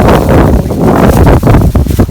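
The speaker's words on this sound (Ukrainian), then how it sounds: "дуже вітер, вибачаюся" Strong outdoor wind buffets a microphone in Prague with loud, rumbling gusts that swell and drop in uneven bursts, with no speech.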